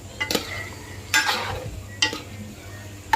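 Chicken curry stirred with spices in a pan, with several distinct scrapes of a spoon against the pan spaced about a second apart over a soft sizzle, close by and with no talking.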